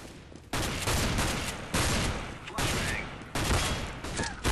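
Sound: gunfire from a weapon in Counter-Strike: Global Offensive video game

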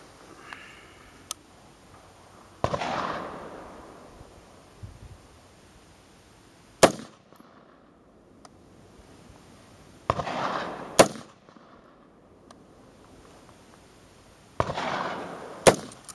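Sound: rifle shots fired from prone position

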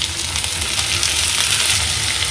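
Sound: tomatoes added to frying chickpea masala

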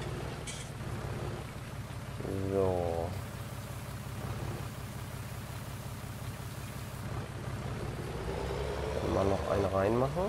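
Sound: rain in Farming Simulator 19 video game

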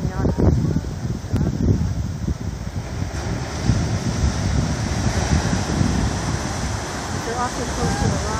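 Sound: ocean waves, surf

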